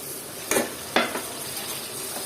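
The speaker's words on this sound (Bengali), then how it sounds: "আর আমি একটু নেড়ে ছেড়ে দিলাম পটাটোটা আলুটা" Potatoes frying in a pan for a mixed vegetable dish give a constant loud sizzle, broken by two quick scraping stirs of a spatula, close and without talk.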